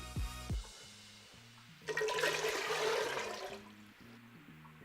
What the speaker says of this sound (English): So I'm gonna dump in 8 cups of water